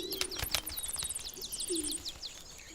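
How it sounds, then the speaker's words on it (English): Wild Atlantic canaries on European islands, with rapid high chirps and trilled song phrases repeating against an outdoor background and a low cooing call heard briefly in the middle. "the Atlantic canary"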